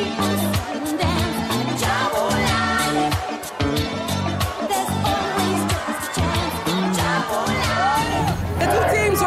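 Dense crowd cheering, shouting and whooping at a BITS match, a loud, continuous roar with voices talking throughout.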